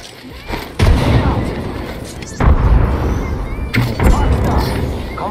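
Grenade explosions in a first-person shooter video game, several heavy booming blasts mixed with gunfire over about five seconds, loud and close.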